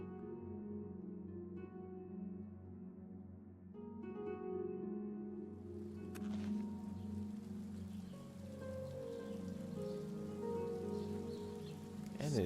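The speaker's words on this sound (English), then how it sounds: "And it's now raining." Video game rain in a town in Tamriel sets in partway through, a soft, faint hiss of falling drops rising under a low tonal music bed that plays alone at first.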